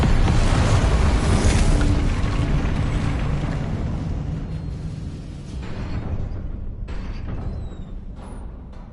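A Confringo blasting spell detonates in Hogwarts Legacy, a loud broadband explosion with a long rumbling roar that slowly decays over several seconds, with a couple of faint sharper crackles near the end.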